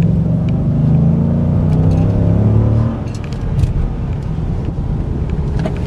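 A 2012 Chrysler 300 SRT8 with a powerful V8 of around 470 horsepower accelerating, a loud rising engine rumble that settles into a lower steady drone, heard from inside the car.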